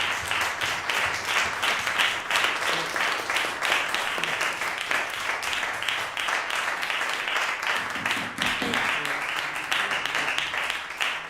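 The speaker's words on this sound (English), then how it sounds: "It's weird for a singer to get applause and I didn't sing." Sustained audience applause after a research forum talk, many hands clapping in a dense, steady roar that carries on for over ten seconds, fairly close, with a brief murmur of voices near the end.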